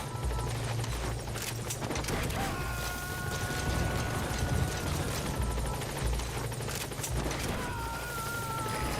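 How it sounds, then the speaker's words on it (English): A helicopter in the video game Metal Gear Solid V thrums loudly with a steady low rotor chop, mixed with mechanical clanks and rattles throughout. "Helicopter has arrived."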